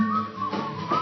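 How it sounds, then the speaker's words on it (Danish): A person whistling a short tune, a few clear sustained notes with small pitch shifts, close and alone with no talk. "Han fløjter nu."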